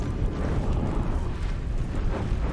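A grenade blast in the fantasy video game Baldur's Gate III: a loud, steady, deep rumbling roar that fills the whole moment, alone and without voices.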